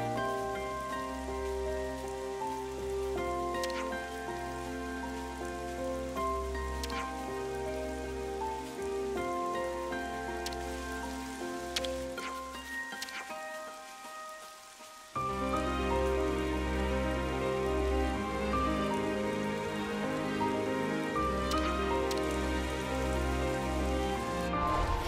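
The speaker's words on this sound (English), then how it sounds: "It's actually raining." Steady rain falling in the video game Xenoblade Chronicles 3, a soft continuous patter layered under sustained musical tones, with a brief dip midway before the rain and music resume at full level.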